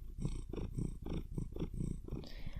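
A pet cat purring up close, a soft rhythmic rumble pulsing about twice per second, quiet and alone with no talking.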